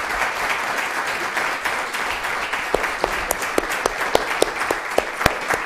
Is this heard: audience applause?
yes